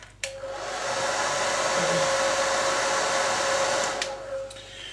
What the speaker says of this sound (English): So the hair dryer comes in handy now.